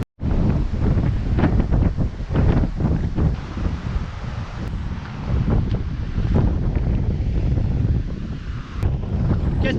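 Aboard the sailboat Black Lion 130 off Barbuda, strong wind buffets the microphone over the continuous rush and slap of ocean waves, loud and unbroken throughout.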